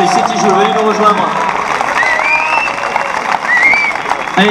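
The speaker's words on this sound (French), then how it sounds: "Applaudissements, ovation pour le lycée La Jolie-Brie avec le véhicule 6 kJ." Crowd applause and cheering for the La Jolie-Brie high school team and its vehicle at the Educ Eco 2015 fuel-economy event, a steady wash of clapping running throughout beneath a loud amplified announcer's voice.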